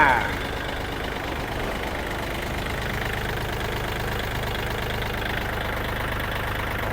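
A Kubota L4018 tractor's diesel engine idles steadily up close, a constant low rumbling chug that holds unchanged from start to finish.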